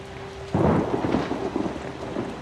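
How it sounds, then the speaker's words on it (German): Thunder rumbles in from a quiet start half a second in over a steady rain hiss, a stormy night scene from the horror video game Outlast, loud and sustained to the end. "Und draußen gewittert es auch noch. Natürlich. Und es regnet wie Sau."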